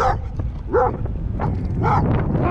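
A dog gives several short, sharp barks and yips in quick bursts, close by, with a rough, noisy background between them.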